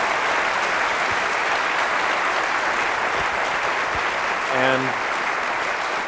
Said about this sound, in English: we give a round of applause to everybody for participating?